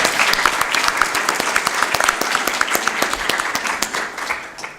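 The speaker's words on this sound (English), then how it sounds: "let's have a big round of applause" Conference audience giving a big round of applause, loud and close, with many sharp individual claps merging into a dense burst that tapers off near the end.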